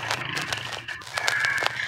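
Chickens about to be slaughtered cluck and squawk in a short, busy burst, several calls overlapping at close range.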